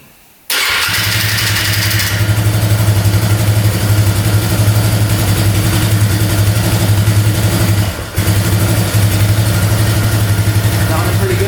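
A $500 ATV engine idles steadily at a fairly high idle, a loud, close, continuous low rumble that holds even throughout, with one brief dip near the end.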